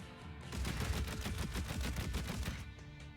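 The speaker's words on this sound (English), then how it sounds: "They shoot when they're in use." Video game turrets fire in rapid bursts, a dense string of sharp gunfire cracks that runs steadily for about two seconds before easing off, loud and close with no talk.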